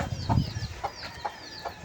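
Several chickens cluck in short, close bursts while being fed, with a few soft, scattered calls spaced through the moment.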